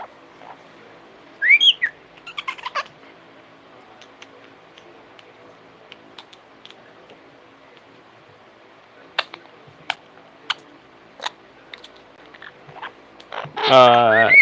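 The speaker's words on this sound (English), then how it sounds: "Are you my whistling buddy?" A parrot whistles a few short chirpy notes, then quiet stretches with sparse clicks and ticks, ending in a louder burst of whistling and squawking.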